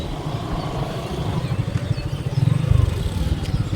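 A motorbike works its way along a rough, broken road near Kuakata beach; the low, pulsing engine chugs steadily and swells louder and closer toward the end.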